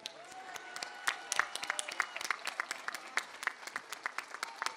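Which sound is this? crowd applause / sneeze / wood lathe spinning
crowd applause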